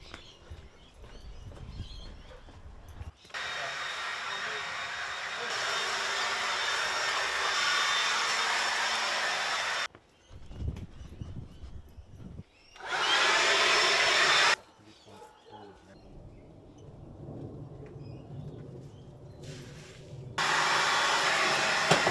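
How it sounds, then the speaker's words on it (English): A blower vacuum clearing a garden area during a clean-up, a loud steady roaring whine that starts and stops several times, close up with short pauses between runs. "Let's do some blower vacuuming over here first."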